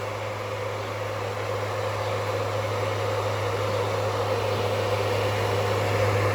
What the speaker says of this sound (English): And here's the fan with the engine off.